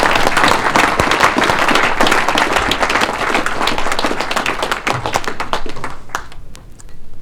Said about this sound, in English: Ladies and gentlemen, thank you for the clap.